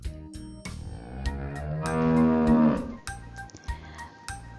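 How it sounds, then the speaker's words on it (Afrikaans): A cow on a farm lets out one long, loud, close moo that swells and then fades, with other brief farmyard sounds around it and no talking. "'n Mamma bees noem ons 'n koei."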